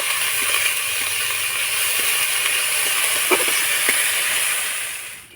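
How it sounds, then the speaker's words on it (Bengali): Carrots with chillies sizzling in a hot pan, a steady loud hiss of frying with a few faint stirring clicks, tapering off at the end. "এবার আমি নাড়াচাড়া করে গাজরটাকে একটু ভেজে নেব"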